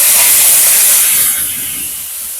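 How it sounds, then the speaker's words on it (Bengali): Chopped tomato hits hot oil over fried whole-spice tempering for a vegetarian jackfruit curry, giving a loud, steady sizzling hiss that gradually softens. "কেটে রাখা একটা টমেটো দিয়ে দিলাম।"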